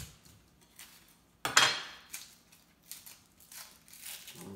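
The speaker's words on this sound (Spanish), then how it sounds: "Vamos a picar la cebolla en pedacitos muy finitos." A knife chops onion finely on a board for fish ceviche, giving soft, uneven taps and scraping strokes with one sharper clattering knock, close and fairly quiet, with no talking.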